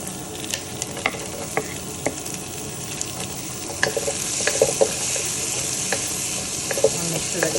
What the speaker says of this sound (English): I just put some garlic, some red onion, now I'm adding my carrots.